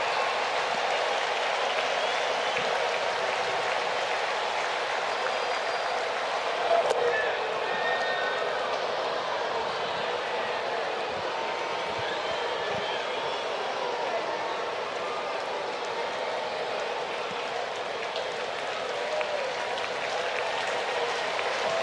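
A sellout baseball crowd at Truist Park roars steadily through a Braves–Diamondbacks night game, a dense, sustained wash of cheering and applause from a packed stadium with no break in the noise.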